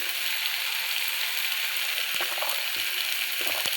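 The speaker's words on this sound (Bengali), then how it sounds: "হ্যাঁ দেখো পটলটা ভাজছি" Pointed gourd fries with spices in hot oil, a steady loud sizzle throughout, joined later by a few soft stirring scrapes.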